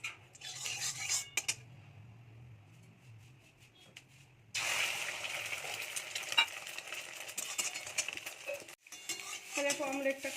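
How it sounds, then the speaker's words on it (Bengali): Two-egg omelette frying in oil in a wok, quiet clinks and scrapes of a utensil giving way to a sudden strong sizzle that continues with bursts of stirring and pan knocks. "দুটো ডিমের অমলেটও করে নিচ্ছি।"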